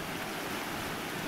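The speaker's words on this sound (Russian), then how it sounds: "Очень сильно все волнит." Strong waves breaking steadily along the rocky Azov Sea shore, a dense continuous wash of surf and water noise with no voices.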